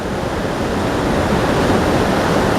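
Creek water rushes steadily at a backcountry trail crossing on the High Sierra Trail, a loud, continuous broadband roar of flowing stream with no talking.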